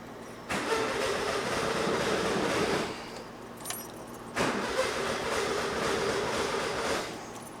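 A 1976 VW Super Beetle engine runs rough and fails to rev. Two long stretches of harsh, rattly idle are split by a brief dip in the noise, with no one speaking.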